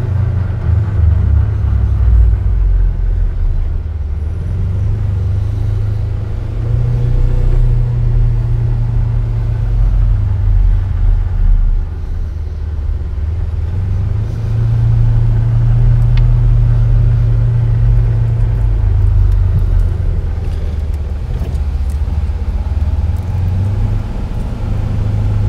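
A Polaris Ranger Crew XP1000 Northstar UTV driving, its engine giving a loud, steady low rumble that swells and eases over time, heard up close with no speech.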